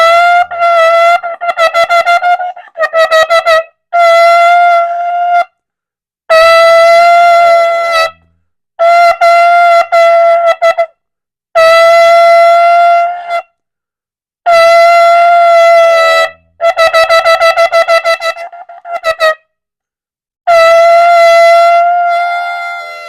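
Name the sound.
shofar blast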